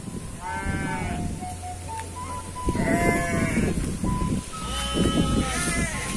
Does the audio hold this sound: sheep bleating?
yes